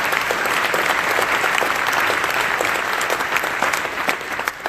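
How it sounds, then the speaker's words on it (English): Audience applause for event volunteers at the Red Pill Expo in Bozeman, Montana, a steady, dense clapping from a large crowd that holds at full strength throughout without any voices over it. "So if we can just give them a round of applause too"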